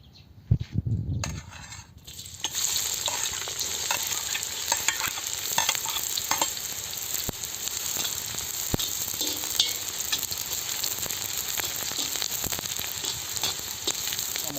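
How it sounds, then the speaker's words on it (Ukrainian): Vegetables fry in oil inside a kazan, a steady loud sizzle running throughout after a brief clatter at the start, with occasional sharp scrapes and clinks of stirring against the pot. "заливаємо олійку і будемо обсмажувати овочі"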